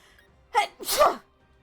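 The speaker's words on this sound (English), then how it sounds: "I need to sneeze again." A single close, loud sneeze: a quick inhaled catch followed by a sharp explosive burst, then quiet.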